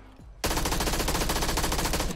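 A 9mm SMG in PUBG opens fire after a short quiet lead-in, a rapid, unbroken stream of loud, close shots with an even rhythm for nearly two seconds.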